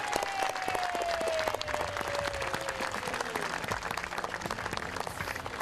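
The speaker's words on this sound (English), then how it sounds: "let's please give them a round of applause" An audience at a middle school farewell ceremony gives sustained applause, thick and continuous clapping from many hands, with a thin tone sliding gently downward through the first few seconds.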